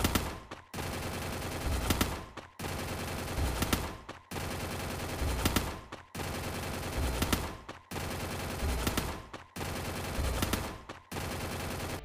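Rapid gunfire rattles in the mobile battle game Free Fire, bursts of automatic shots repeating in regular two-second cycles with brief gaps between, steady and fairly faint, no talking over it.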